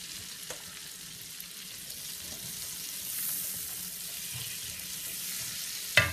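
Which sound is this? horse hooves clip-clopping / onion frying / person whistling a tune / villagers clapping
onion frying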